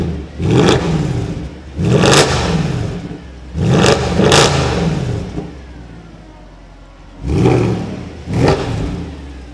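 A car with a loud full-tube exhaust and a seven-speed gearbox revs hard several times at close range, each blip of the throttle rising sharply and then dropping back to a steady idle between revs.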